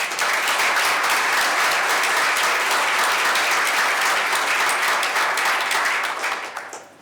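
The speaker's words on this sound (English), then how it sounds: "I'm only going to ask for a round of applause for one person" Sustained audience applause from a sizable crowd at a speaking event, dense and steady for several seconds before tapering off at the end.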